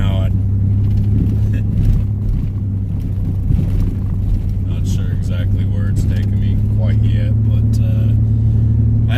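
A car rolling along a dirt road just off the highway gives a steady low engine rumble and road noise from inside the cabin, with scattered crunches and clatter, while a person talks over it.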